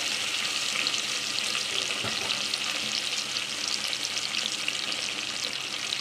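Mint and other ingredients fry in a pan for tomato rice, giving a steady, close sizzle with light stirring scrapes throughout and no voices.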